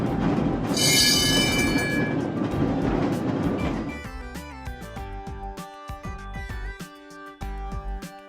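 A streetcar rumbles along with broad low rolling noise and a brief high squeal early on, loud and close for about four seconds, then gives way to music.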